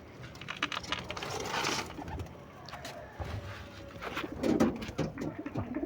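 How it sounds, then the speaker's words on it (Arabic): Pigeons leaving their loft, with cooing and a busy flutter of wingbeats and scuffling close by, continuous over a few seconds and no talking. "الحمام اللي في الدشار اهو"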